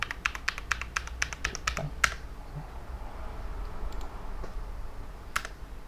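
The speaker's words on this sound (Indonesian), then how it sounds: "Kita ketikkan password yang sudah kita masukkan sebelumnya" Fingers typing a password on a computer keyboard, a quick run of crisp key clicks followed by a sharper enter-like tap, then near quiet with one more faint click near the end.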